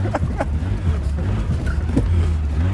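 A Lada VAZ dressed up to look like a Tofaş, bouncing and hopping as it drives, with a steady low engine and road rumble and occasional knocks. Someone speaks in the car over the noise.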